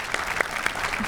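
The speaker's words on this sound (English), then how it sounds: "So a big round of applause for Marco del Pivo." Audience applause at a Magic: The Gathering Pro Tour watch party at MagicCon Barcelona: a brief burst of clapping from a crowd, a few sharp claps standing out from the steady patter.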